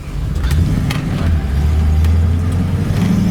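A 1956 Dodge Custom Sierra wagon's engine pulls loud and steady from up close, its low hum rising as the car accelerates and easing briefly between gears, with no talking.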